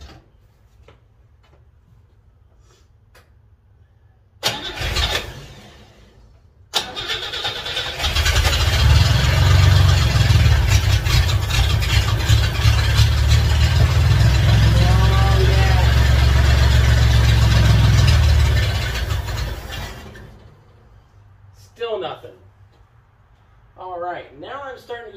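A 1963 Rambler engine cranks, catches and fires up, then idles loudly and roughly for about ten seconds before cutting out, with clicks and brief voices before and after.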